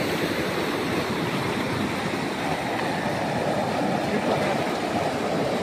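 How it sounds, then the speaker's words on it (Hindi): A river flows continuously in a steady, loud, close broadband rush that stays even throughout, with no voices present. "बहते हुए पानी"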